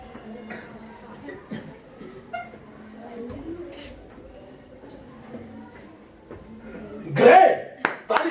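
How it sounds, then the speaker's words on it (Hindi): Classroom applause from schoolchildren, a short burst of clapping near the end after a teacher talks. "ग्रेट, ताली।"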